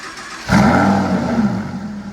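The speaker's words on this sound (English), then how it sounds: "We're ready for the cold start." A wrecked and rebuilt Ferrari 296 engine cold-starts with no exhaust fitted, catching with a sudden loud bark that settles into a raw, rough, close idle.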